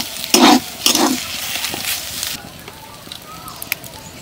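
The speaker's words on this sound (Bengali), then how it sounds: "এবার একটু নাড়াচাড়া করে শুকনো শুকনো করে নিলেই আলুর পুরটা রেডি" A spatula scrapes and stirs spiced potato filling being dry-fried in a pan, with a few loud scraping strokes early on, then softer stirring and light sizzle that fades toward the end, close up.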